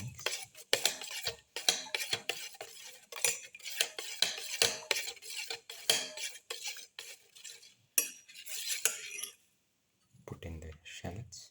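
Utensil clattering and scraping against a bowl while egg, tomato and black pepper are mixed thoroughly for an omelette. The quick, repeated clinks come close up and stop briefly near the end.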